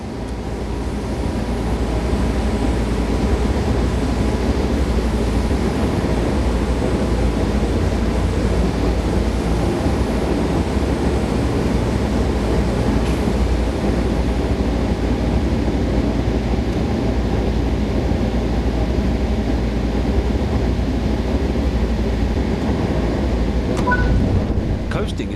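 An electric train coasting with the throttle off on the Mittenwaldbahn route in Train Sim World 5, a loud continuous low rumble and rolling roar holding steady throughout, with a narrator speaking over it.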